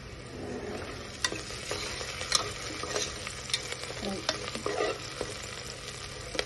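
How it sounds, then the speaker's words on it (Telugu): Fenugreek leaves, onion and green chillies fry in oil inside a cooker, giving a steady close sizzle broken by occasional sharp scrapes and knocks of stirring, with no talking. "కుక్కర్లో ఆయిల్ పోసి అందులో కొంచెం మెంతాకు, ఆనియన్, పచ్చిమిరపకాయలు వేసి బాగా ఫ్రై చేసుకోవాలి."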